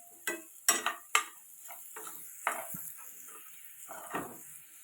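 Onions sauté in oil in a pan, a low sizzle under a handful of close, sharp spatula scrapes and stirs, spaced irregularly, with no voices.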